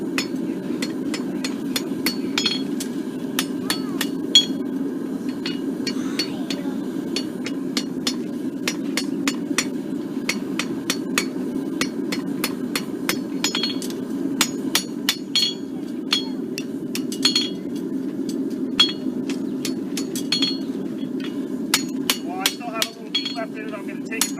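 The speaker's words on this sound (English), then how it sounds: "I'm going to use the anvil to give me my shape. Don't have to hit it very hard because it's very hot." A farrier shapes a very hot horseshoe on an anvil with light hammer blows, producing a steady stream of bright, ringing metallic taps throughout, heard close under a constant low background hum with occasional voices.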